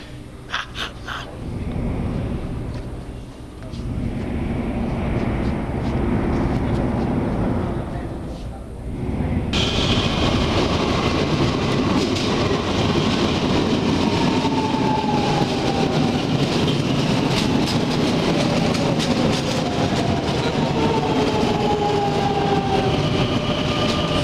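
A train rumbles along the rails with rhythmic clatter and screeching, growing louder and rougher partway through, with faint voices underneath.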